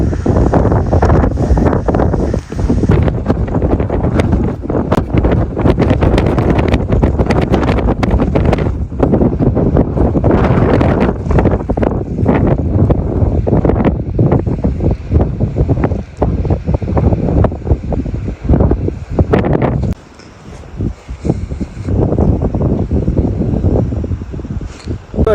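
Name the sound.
strong wind on a sea cliff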